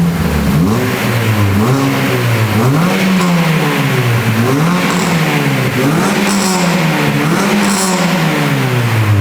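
Mini car engine with a cheap replacement exhaust back box, revving hard and repeatedly up and down in close, loud bursts, with no talking.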